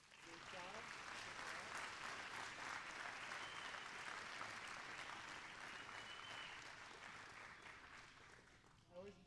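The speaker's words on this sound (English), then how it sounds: "appropriate to give the children another round of applause" A room full of people claps for children after an elementary school Christmas program, a broad, steady wash of applause that gradually thins toward the end, with a few voices audible underneath.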